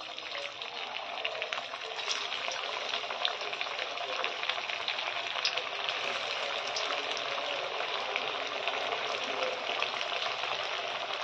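Potato-rice tikkis sizzle and fry steadily in oil in a pan, a dense, continuous crackling hiss that stays loud and even throughout with no talking.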